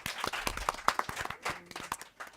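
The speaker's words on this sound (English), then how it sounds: "Give them a warm applause." An audience applauds at a science talk about a circular kitchen, with a burst of scattered, fairly quiet hand claps from a modest crowd lasting a couple of seconds.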